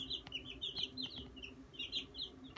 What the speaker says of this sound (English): Little baby chickies and 5 little turkeys.